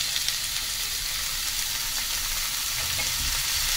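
Onion sautés in a pan with tomatoes and coriander stems for a makhni gravy, giving a steady, close, even sizzle and crackle of frying throughout, with faint stirring and no talk.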